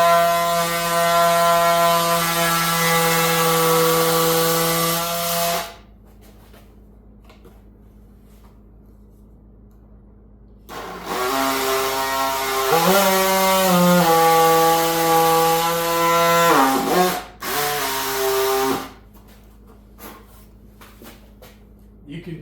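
A power saw cuts the nose of a whitetail deer taxidermy form in two loud whining bursts with a strong steady pitch, separated by quiet pauses, and a few short clunks near the end.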